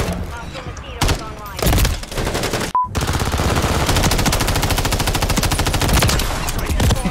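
MTZ-556 rifle fire in Modern Warfare III multiplayer: a few separate loud bursts, then a sustained rapid automatic stream of close shots filling the rest, with game sounds underneath.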